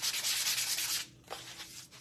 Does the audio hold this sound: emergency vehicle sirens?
no